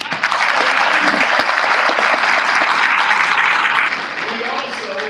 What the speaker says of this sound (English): please give Mr. Willie Simmons, Commissioner Simmons, a round of applause